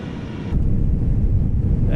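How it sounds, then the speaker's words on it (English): An A320 rolls out after touchdown in a flight simulator, a deep rumbling roar swelling abruptly as reverse thrust engages and holding steady and loud, with a voice talking over it. "Okay, and we are down. Got spoilers deployed and reverse thrust."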